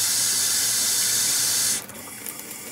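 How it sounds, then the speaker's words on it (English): Water running from a kitchen tap on city supply, a loud steady hissing stream that stops abruptly near the end, leaving quiet room tone. "Now we will test the water coming out of our tap."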